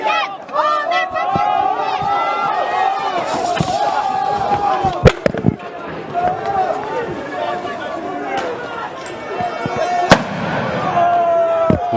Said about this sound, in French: ils repoussent les manifestants à coups de gaz lacrymogène, de charges et de tirs de flashball